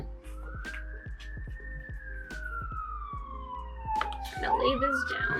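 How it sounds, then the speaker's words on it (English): A wailing emergency siren from a nearby freeway sweeps slowly up and down in the distance while someone talks over it and objects clatter and thump nearby. "Excuse the sirens."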